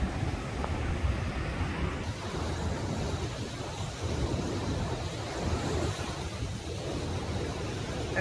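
Huge ocean waves pound the shore during Hurricane Henri, a continuous heavy roar of surf mixed with strong wind buffeting the microphone and rising and falling surges.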